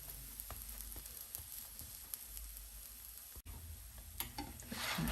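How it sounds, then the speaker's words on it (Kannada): Gobi paratha, a cauliflower-stuffed flatbread, frying in a pan, giving a steady close sizzle with light scraping and pressing sounds, swelling louder near the end. "ಈ ಥರ ಗೋಲ್ಡನ್ ಕಲರ್ ಬರೋ ತನಕ ಅದನ್ನು ಫ್ರೈ ಮಾಡ್ಕೊಬೇಕು"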